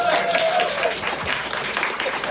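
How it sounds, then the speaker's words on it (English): Applause from a small audience at an in-store interview in a record shop, a steady wash of clapping lasting the whole stretch, with faint voices mixed in. "Feel free to clap."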